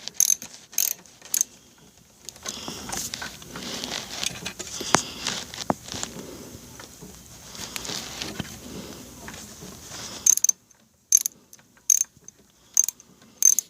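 Ratchet turned through a 1/4-inch to 3/8-inch drive adapter during a BigDog motorcycle transmission oil change, with sharp close clicks at the start and a rapid burst of ratchet clicks at the end around a stretch of quieter fumbling and handling noise.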